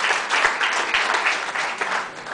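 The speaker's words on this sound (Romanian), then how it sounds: "Aplauze pentru Dan Byron!" A gala audience applauds steadily, a dense wash of many hands clapping, fairly loud and continuous throughout with no talk over it.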